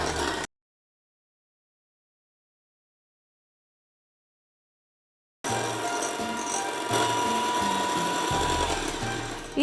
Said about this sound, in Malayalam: ഇതിനകത്തേക്ക് ഒരു 2 ടീസ്പൂൺ നാരങ്ങാനീരും കൂടി ചേർത്തിട്ട് ബീറ്റ് ചെയ്യുമ്പോൾ